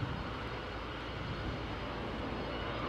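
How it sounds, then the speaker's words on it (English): A British Airways Dreamliner departing Heathrow for Denver gives off a distant, faint, steady engine roar, a smooth broadband wash without distinct peaks. "that BA Dreamliner out to Denver"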